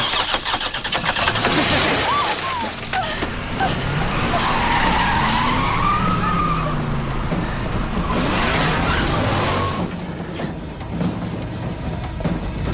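A car engine cranks and catches, then revs loudly and roars close by, with tire squeals and surging engine noise throughout and a brief quieter stretch near the end.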